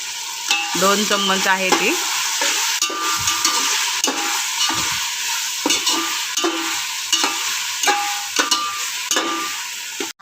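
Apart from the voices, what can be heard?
coriander, green chili, garlic, ginger paste frying in pan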